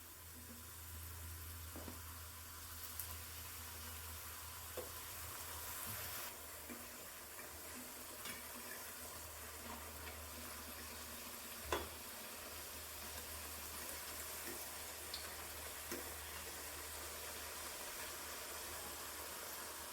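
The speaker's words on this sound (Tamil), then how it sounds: "இப்போ எண்ணெய் நல்லா காஞ்சாச்சுங்க இப்போ நம்ம கட் பண்ணி வச்சது போட்டுக்கலாம்" Wheat flour chips frying in hot oil give a steady, broad sizzle that runs through the whole stretch, with a few faint clicks and one brief knock near the middle. No one speaks.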